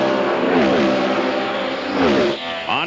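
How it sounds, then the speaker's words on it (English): Onboard engine roar from Goodyear's IRL race car at the 1998 Phoenix Dura Lube 200, a loud, close, high-revving drone with pitch sweeps as the throttle lifts and picks back up. "You can hear that engine noise from the in-car Camry."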